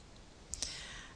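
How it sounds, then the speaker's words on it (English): A computer mouse gives two quick, faint clicks close together in a quiet room while someone opens a link during a library resource search. "I'm going to click this link here."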